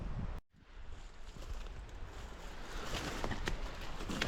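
Steady broadband wind roar buffeting the microphone, with a brief dropout near the start, then continuous gusty rushing that grows slightly louder.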